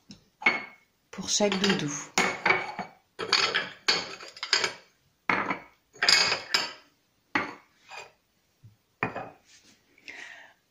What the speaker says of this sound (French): tu vas bien placer tes peluches et tu distribues les assiettes